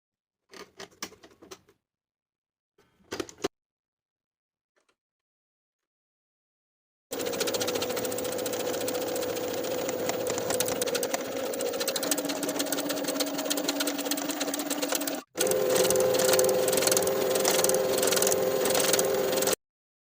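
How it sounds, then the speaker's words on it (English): A sewing machine runs a stretch stitch along the side and shoulder seams of a beginner knit tank top, a steady continuous whir lasting several seconds with a brief break, preceded by faint scattered handling clicks. "Sew both side seams and both shoulder seams with a 3/8 inch seam allowance and a stretch stitch."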